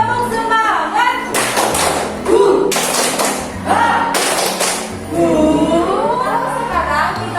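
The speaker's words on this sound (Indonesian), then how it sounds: "Tepuk semangat." A sixth-grade class claps the Indonesian "tepuk semangat" rhythm in quick bursts, trading off with voices chanting together in a classroom.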